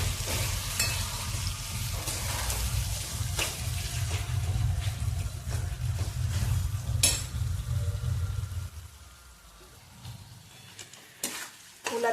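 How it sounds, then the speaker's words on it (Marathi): Goat blood (rakti) frying in oil in a pan, a close steady sizzle with scattered crackles and clicks of a spatula. The low frying rumble fades near the end, leaving sparse ticks. "आता चांगली तेलात भाजून घेऊया आधी।"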